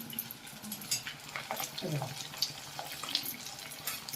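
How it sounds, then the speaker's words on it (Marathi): Leftover chapati and rice cutlets coated in crumbs fry in oil over medium heat, giving a soft, steady sizzle with some light stirring and utensil clinks, heard close. "असं आपण तेलामध्ये मध्यमाचेवर फ्राय करून घ्यायचं"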